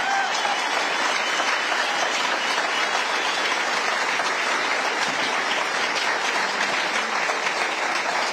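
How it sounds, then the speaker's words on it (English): Steady, dense applause from a town hall audience at a political event in Lansing, filling the room evenly for the whole stretch with no break or speech over it. "Give him a round of applause"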